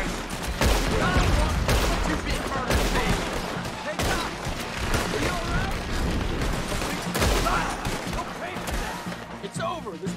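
Army gunfire and cannon blasts in Red Dead Redemption 2 form a dense, loud barrage of overlapping shots and booms that runs continuously, with voices mixed in.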